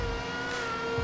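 A Ford Mustang engine in the Roblox game Driving Empire gives off a steady, tonal synthesized hum with a faint whine, held at a constant level without any talk.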